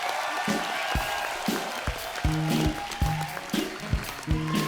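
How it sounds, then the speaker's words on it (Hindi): A studio audience claps loudly and steadily to welcome a guest onto the stage of a Hindi TV comedy show, with a rhythmic musical beat pulsing underneath. "मंच पे आ जाइए, जोरदार तालियों से एक बार स्वागत हो जाए।"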